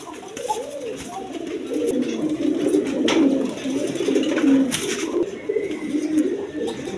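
Chuina and high-flying Giribaz pigeons coo steadily in a flock, a continuous layered murmur of overlapping low calls close by, with faint background noise throughout.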